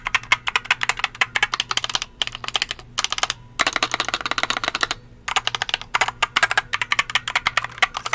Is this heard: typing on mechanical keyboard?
yes